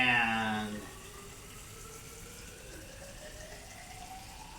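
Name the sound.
water filling a measuring container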